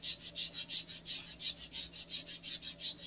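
Repeated rhythmic sanding strokes bevel the edge of a thin model rocket fin for an AIM-54 Phoenix build, each steady back-and-forth rasp close and clear, about four strokes per second with no talking.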